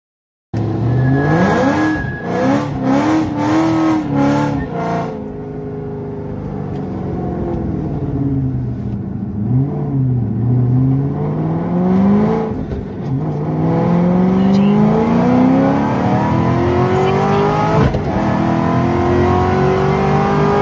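A Ford Mustang GT500 accelerates hard on a 60-130 run: the loud engine roar climbs steadily through the gears with brief dips at each shift, heard close and continuous from inside the car.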